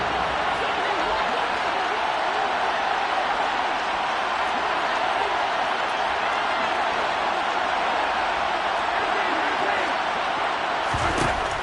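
Stadium crowd in a Madden football video game during a Kansas City game with Mahomes: a steady, fairly loud wash of crowd noise that runs throughout, with a brief bump near the end.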